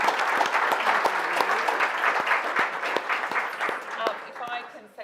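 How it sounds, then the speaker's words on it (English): Audience at a VCOSS Treasurer's Breakfast applauding panellists, dense clapping that fills the room and then thins and fades out toward the end. "We give a round of applause to our panellists."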